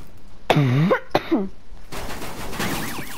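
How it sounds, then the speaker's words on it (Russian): Two harsh, close coughs followed by throat clearing, loud and alone in a quiet room during a Fortnite gaming session, with a brief muffled rustle afterward. "Извините за мой кашель."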